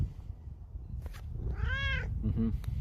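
A cat gives one clear, rising-and-falling meow close by, preceded by a brief chirp, over a steady low hum of background noise.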